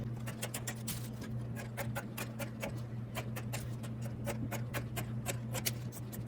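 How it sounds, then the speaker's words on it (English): Pinking shears snip around fabric edges and corners in a quick, regular series of sharp clicks over a low steady hum, close up with no talking. "I'm using my pinking shears, and I'm just going to actually go around and pink the edges and round off the corners"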